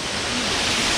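Cachoeira Ballaroti near Maringá, Paraná, produces a steady, loud broadband roar of falling water that fills the whole second without change.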